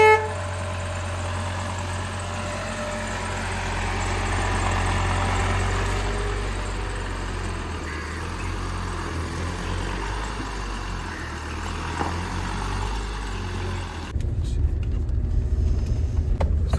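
A car engine at the start of a road trip from Kolkata to Purulia, with a steady low rumble of idling and driving heard from inside the vehicle and a louder, rougher stretch near the end.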